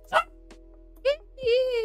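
Two short dog barks a second apart, then a longer whining yelp, fairly close, over a steady low hum.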